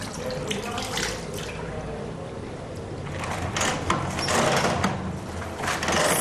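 Tap water running steadily into a sink while hands and wrists are rinsed, a continuous splashing hiss that swells and dips, with a person talking over it.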